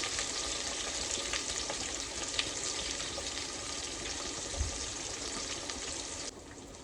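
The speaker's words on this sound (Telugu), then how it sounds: "ఇప్పుడు కట్ చేసి పెట్టుకున్న ఉల్లిపాయలు వేసుకోవాలి." Chopped onions fry in hot oil with curry leaves, a dense continuous sizzle with a few soft knocks, nearby and fairly quiet, ending abruptly.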